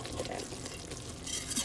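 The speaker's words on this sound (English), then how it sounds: "And I'm just going to give that all a stir." Homemade caramel sauce with a splash of vanilla is stirred in a pot, a soft, close liquid swishing and scraping that stays steady and quiet, with a faint bubbling hiss near the end.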